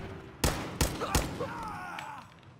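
Three sharp, evenly spaced gunshots in Fallout 4 ring out close and loud in quick succession, trailing into fainter game sounds.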